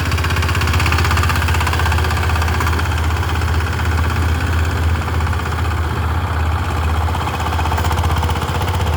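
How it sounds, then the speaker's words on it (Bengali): A steady, loud power tiller engine chugs nonstop at close range while ploughing a field, a rough mid-pitched rattle with no pauses or talk. "দুইটা পাওয়ার টিলার নিয়ে আজকে লাগছে ওদিকে একটা চলতেছে এদিকে ছোট ভাই একটা চালাচ্ছে"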